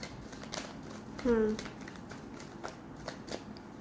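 Tarot cards being shuffled by hand produce a soft, steady riffling and flicking, close and quiet, while someone talks over it.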